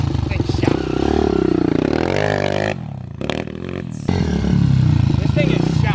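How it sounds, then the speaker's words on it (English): A pit bike engine runs up close and loud, holding a steady droning note that dips briefly midway and then comes back strong, with people talking over it. "trusty pit bike."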